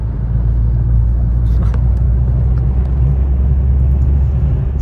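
A Peugeot 206 GT cruising in fifth gear gives a loud, steady low engine rumble with road noise filling the cabin, unchanging throughout.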